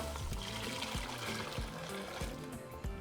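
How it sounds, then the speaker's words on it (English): Broth pours into a stock pot on the stove, a close, continuous glugging splash with uneven gulps throughout, no talking. "we're going to add our broth"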